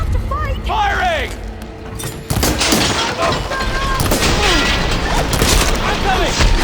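Gunfire erupts in a Horizon Forbidden West battle, a dense burst of shots and booms after about two seconds that stays loud and continuous, with voices calling out over the fight.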